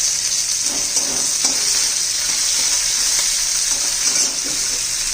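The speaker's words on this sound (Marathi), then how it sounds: "हे सगळं व्यवस्थित परतून घ्यायचे आपल्याला भाजून घ्यायचे" Garlic, ginger and curry leaves sizzle steadily in a hot pan while being stirred for a spicy drumstick-pod curry with black masala. It is a continuous, close frying hiss with soft scraping stir strokes and no voices.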